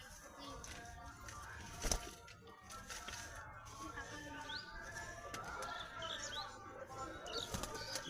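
A pigeon, one of a household flock, released by hand: a brief burst of wing flaps, then quieter rustling and faint bird sounds with a voice in the background.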